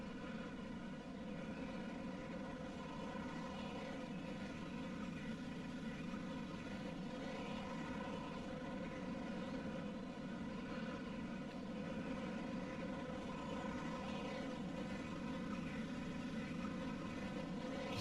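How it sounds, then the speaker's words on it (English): A C-5 aircraft makes a low pass in a video game at an air tattoo, a steady, faint engine drone with a broad roar that holds constant throughout. "just watching the C5 come in for a nice low pass"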